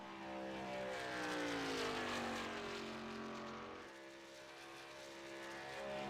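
Race car engines in a superspeedway racing game, several cars droning and whining as they roll out onto the track, pitch sliding down over a sustained steady roar, with no talk.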